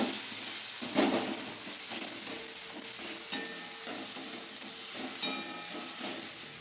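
Spice masala of turmeric, chili powder and green chilies frying in a pan while being stirred, a steady close sizzle broken by scraping spatula strokes near 1, 3.3 and 5.3 seconds.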